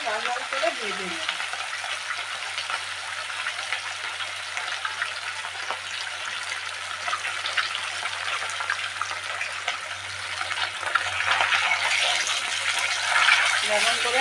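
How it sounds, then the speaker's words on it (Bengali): Katla fish frying in oil in a pan, a steady broadband sizzle that stays close and continuous throughout, brightening and growing louder toward the end, with no talk over it. "এইভাবে আমি লাল লাল করে ভেজে নিই।"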